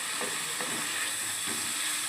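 Pasta frying in a pan with the lid lifted gives a dense, even hiss and sizzle, with a few soft stirring scrapes rising through it at intervals.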